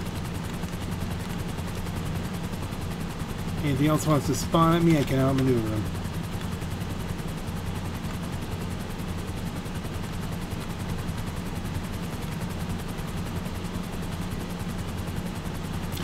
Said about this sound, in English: I'm in an unarmed chopper, but I'm in a fast chopper.